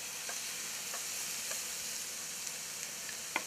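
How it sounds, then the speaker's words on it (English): Steak rolls sizzling in a hot pan, a constant soft hiss with faint crackles and a sharper pop near the end, heard alone without talk. "You hear it still sizzling in there?"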